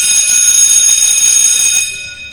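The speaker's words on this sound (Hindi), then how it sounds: "स्कूल की घंटी बजी, छुट्टी की घंटी।" A loud electric school bell rings continuously to mark the end of the day, a sustained bright metallic tone that cuts off near the end.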